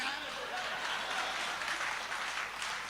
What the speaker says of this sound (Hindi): और तालियां तो इस बात पे बजा देना